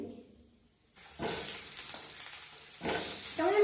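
Potatoes fry in hot oil in a kadai, a broadband sizzle with splattering that starts after a near-silent second and swells again near the end, close and fairly loud.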